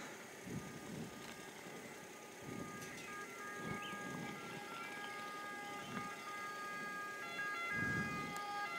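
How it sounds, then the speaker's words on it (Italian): A distant ambulance siren wails in the province of Bergamo, Italy, faint and steady with a repeating tonal cycle over low, quiet street rumble. "Diretta ambulanza"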